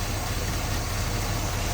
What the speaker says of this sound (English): you can hear just how well that engine runs. That 425 purring like a pussycat.